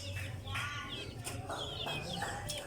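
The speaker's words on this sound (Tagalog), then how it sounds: "Ayan, daming manok ni Boss Mark." Chickens on a small farm cluck and murmur softly nearby, with short overlapping calls over a low steady background hum.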